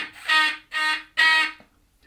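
Harmonica 2-draw note played with poor beginner technique, three short buzzy, thin, slightly distorted blasts in a row, close and fairly loud, with no voices.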